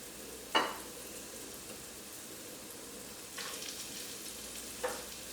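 Flour-coated salmon pieces fry in a pan, giving a faint, steady sizzle broken by a couple of brief sharp clicks as a piece goes down.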